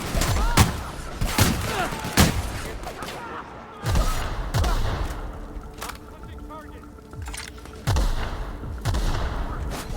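Gunfire in the video game The Outer Worlds: repeated sharp shots crack out in irregular bursts during a firefight, loud and near, while characters talk between the shots.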